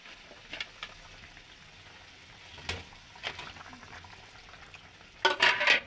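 Fish frying in a pan for a Bangladeshi fish bhuna: a low steady sizzle with occasional stirring scrapes, ending in a louder burst of crackling as the fish goes in, no talk.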